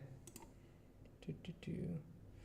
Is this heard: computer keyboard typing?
yes